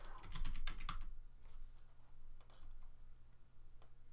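Quick burst of computer keyboard typing while entering a name during a Salesforce app setup, a rapid cluster of close key clicks followed by a few scattered taps over a low hum.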